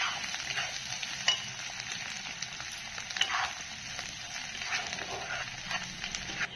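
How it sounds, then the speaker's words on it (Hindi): Masala with coriander powder frying in a pan for prawn curry, a continuous close sizzle with occasional scraping stirs. "धनिया पाउडर 1 चम्मच डाल के इसको अच्छे से फ्राई करना है।"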